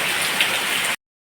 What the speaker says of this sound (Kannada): ಹಾಗೆ ಜೋರು ಮಳೆ